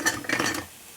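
Food sizzles in a nonstick pan while being stirred, with a short burst of scraping and light clinking that fades out after about half a second, leaving near silence.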